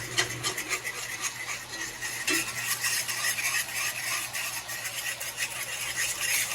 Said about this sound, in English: scrape the drippings that was at the bottom of this pan